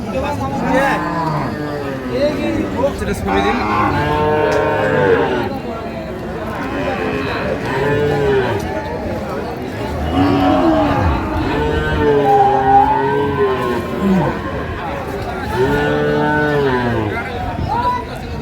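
Cows and calves at the Ambari cattle market in Dinajpur, with repeated loud, drawn-out moos from nearby animals mixed with constant crowd chatter and people talking close by.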